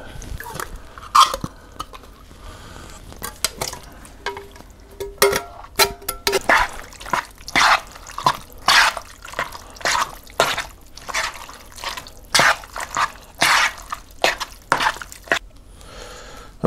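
Liquid drains from a big can in a long series of close, irregular drips and splashes, some sharp and distinct, with quiet pauses between bursts.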